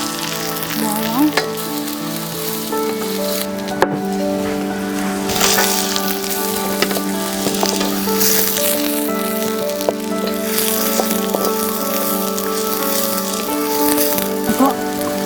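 Garlic fries in a pan for chop suey, a continuous loud sizzle and crackle with scattered pops and a few stirring scrapes, no talking.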